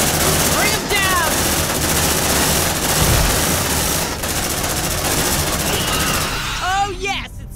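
Sentry gun turret in Aliens: Dark Descent firing in a loud, continuous stream of rapid shots, with voices and brief shrill cries breaking through near the end.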